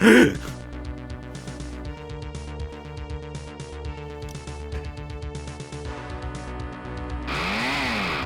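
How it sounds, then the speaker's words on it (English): A chainsaw in the video game Planet of Cartmans 2 runs with a steady, buzzing, harmonic engine drone, loud and close, with a rising rev burst at the end. "Oh yeah, that's right, I still have the chainsaw."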